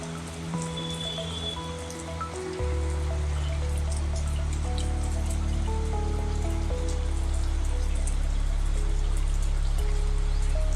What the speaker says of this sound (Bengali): আর বৃষ্টিও পড়ছে